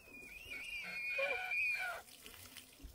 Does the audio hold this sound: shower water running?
yes